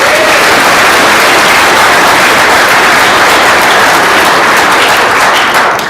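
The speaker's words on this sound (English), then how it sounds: "Please clap for them." A live audience at a startup competition event breaks into loud, sustained applause, a dense wash of clapping that fills the room from start to finish.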